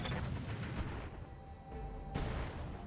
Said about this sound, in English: And let's go ahead and fire.